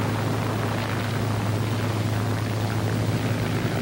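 A P-51 propeller airplane taking off with the engine at full RPM, a loud, steady droning roar with a low hum running unbroken throughout.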